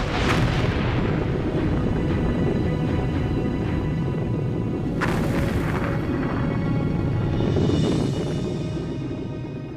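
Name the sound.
volcanic explosions from undersea eruption south of Iceland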